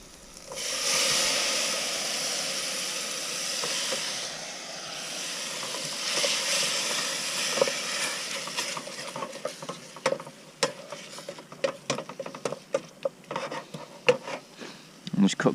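Mushrooms frying in a pan in a camper van kitchen: a broad steady hiss of sizzling that thins into sharp, irregular crackles and pops, close and fairly loud, with occasional utensil clicks.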